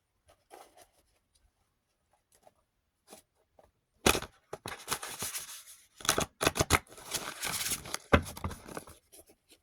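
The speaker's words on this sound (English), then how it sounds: "I'll shuffle again." A deck of cards is shuffled in several quick, crisp riffling bursts after a few seconds of near silence, close and clear with short pauses between shuffles.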